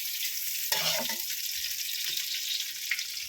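Onion, garlic, ginger and chili frying in oil for khichuri, a steady broadband sizzle throughout with a brief burst of stirring or clatter near the start; no talking.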